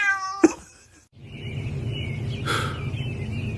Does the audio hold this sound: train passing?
no